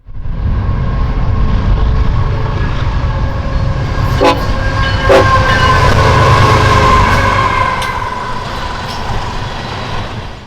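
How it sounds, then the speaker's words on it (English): Loud rumble of a westbound CSX manifest freight train rolling past close by in Berea, Ohio, with rattling cars and squealing wheels, steady throughout and fading slightly near the end. "The next train clearing the tower would be a westbound CSX manifest"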